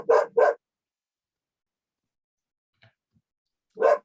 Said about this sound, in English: You're going to hear a dog barking in the background.